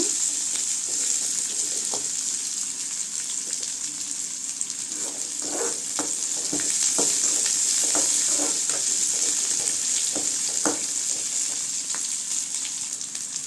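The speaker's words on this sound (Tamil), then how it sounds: "வெங்காயம் நல்லா வதங்கட்டுங்க" Onions frying in a pan for a banana stem kootu make a steady close sizzle with repeated light scraping and stirring clicks throughout. No voices are heard.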